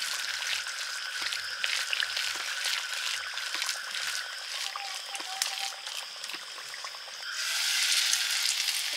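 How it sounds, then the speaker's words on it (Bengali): Lentil and onion fritters (dal piyaji) seasoned with salt, ajwain and turmeric fry in hot oil, giving a steady, close crackling sizzle with scattered pops that brightens toward the end. "ডালের পেঁয়াজিগুলো ভেজে নিচ্ছি"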